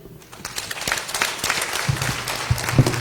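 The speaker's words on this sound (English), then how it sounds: "Another round of applause for them" An audience at a debate meeting applauds a panel, the scattered claps quickly swelling into steady, moderately distant applause with some low voices underneath.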